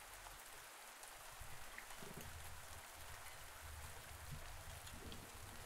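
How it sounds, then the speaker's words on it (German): Steady rain falls in the farming video game Pumpkin Days, a soft continuous patter with a faint background wash and occasional low bumps. "Gut, dass es regnet, ey."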